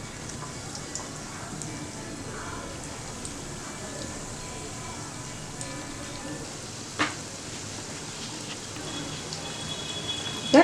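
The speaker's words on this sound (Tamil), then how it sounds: "இப்போ நம்ம வந்து எண்ணெயில் ஃப்ரை பண்ணிக்கலாம்" Banana blossom fingers frying in oil over a medium flame, giving a steady, even sizzle and crackle throughout with a faint clink near the end.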